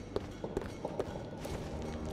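Adult footsteps sneaking in the Shadwen game, a series of soft, close, irregular taps over a low ambient hum, no talking.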